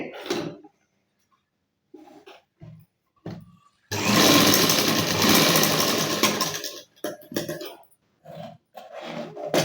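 A sewing machine stitches thread piping onto a blouse in one loud, close burst of about three seconds. Short scattered handling knocks and rustles come before and after it.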